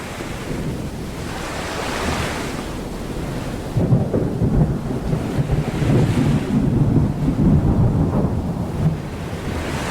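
Stormy open sea in an 18th-century sailboat simulator game: a steady roar of wind and surf with low rumbling thunder swelling partway through, continuous and fairly loud with no voices.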